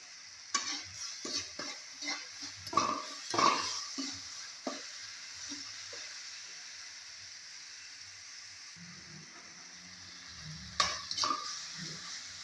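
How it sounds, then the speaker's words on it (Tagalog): Bagoong (fermented shrimp paste) stirred in a frying pan, with repeated scraping strokes of a utensil over a steady sizzle and a quieter stretch of frying toward the end; no talking. "Haluin natin mabuti."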